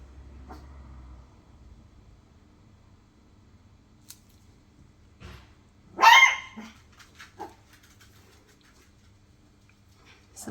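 Dogs bark in a short burst at someone coming through a garden gate, a loud flurry of yips around the middle followed by a couple of scattered barks, with quiet room tone between.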